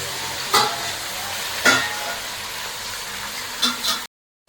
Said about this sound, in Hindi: यहाँ पे बना रही हूँ फ्राई मीट और अभी इसके अंदर मैंने घी डाला था देसी घी